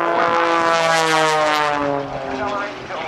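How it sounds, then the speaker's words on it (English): An Extra 300S aerobatic propeller airplane's engine roars loud and close at an airshow at NAS Oceana, its droning pitch sliding lower as it sweeps past and begins to fade. "This is one of the fastest airplanes on the airshow circuit today."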